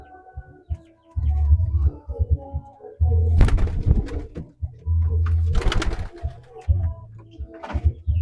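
Pigeons coo in a pigeon loft with repeated low, throaty calls in close, overlapping bursts and some wing or body rustling between them.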